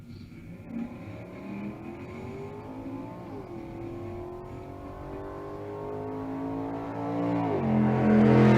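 An old hot rod and an S197 Mustang launch side by side at a drag race, their engines droning and rising steadily in pitch as they accelerate away, growing louder toward the end.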